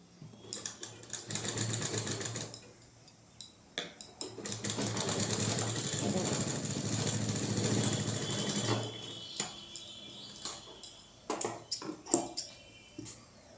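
A sewing machine stitches a blouse neckline in two long runs of rapid, even whirring, close and fairly loud, separated by pauses filled with small handling clicks and taps.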